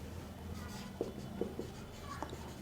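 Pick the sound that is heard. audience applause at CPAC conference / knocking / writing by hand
writing by hand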